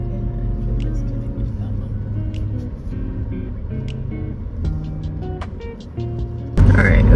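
Steady low road rumble inside a moving car on a food and grocery delivery run, continuous engine and tyre noise throughout with a few faint clicks, ending in a louder burst.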